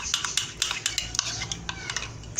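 Spoon stirring a homemade ambrosia mixture in a pan with oil, a steady run of close scraping and clinking strokes against the pot, repeated quickly without talk.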